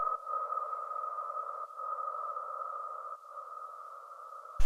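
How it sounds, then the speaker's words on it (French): A sustained, swelling metallic drone with a hollow ringing tone from a reversed handpan, smeared by heavy reverb, rising in a few stepped surges before cutting off abruptly. "ça c'est le N-pan reverse,"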